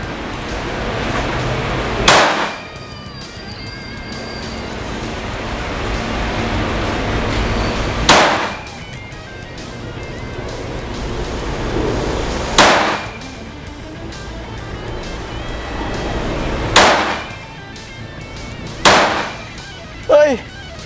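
Five sharp gunshots from a KelTec P17 .22LR pistol fired outdoors, spaced several seconds apart with the last two close together, each a loud crack with a brief tail over steady background noise.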